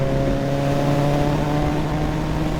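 Suzuki GSX 1200 Café Racer motorcycle engine running with a deep, steady rumble, close and loud, holding an even drone throughout.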